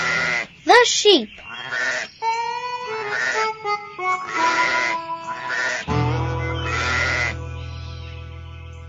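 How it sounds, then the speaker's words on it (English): Sheep on a farm bleat repeatedly, wavering nasal cries coming close and fairly loud in overlapping bursts, with a steady low hum entering toward the end. "The sheep."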